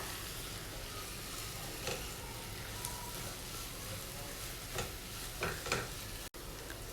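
Amaranth leaves frying with peanut powder, a soft continuous sizzle under occasional spatula scrapes and taps, fairly quiet and steady throughout, with no one speaking.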